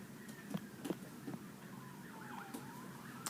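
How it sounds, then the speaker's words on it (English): An ambulance siren passes outside a classroom, faint and distant, its wailing tone slowly rising and falling beneath room noise and a few soft knocks. "Somebody called an ambulance."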